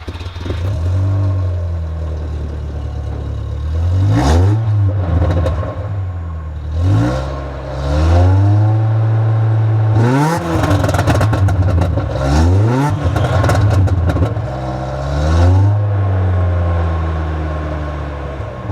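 1996 Kia Sportage with a Cherry Bomb muffler, its engine revved repeatedly in loud close bursts that rise and fall over a raspy, buzzing exhaust idle.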